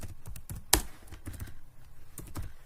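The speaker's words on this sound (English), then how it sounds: "So I'm coming back here, then I'll type my packaging sack." Typing on a computer keyboard while entering an item into QuickBooks Desktop: soft, close key clicks in irregular short runs with one sharper tap, no talk.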